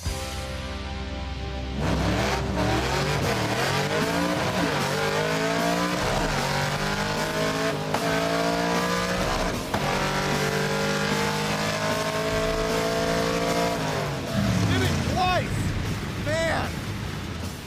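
A project car accelerates hard down a drag strip, its engine revving loud and close and climbing through several gears with rising whines. A brief squeal comes near the end and voices are faintly audible under the engine.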